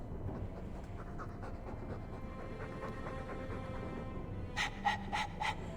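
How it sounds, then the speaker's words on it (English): A dog in the video game Dragon Age II pants rapidly and rhythmically up close, ending with a few sharper high breathy bursts. "All that noisy dog breath, day in, day out."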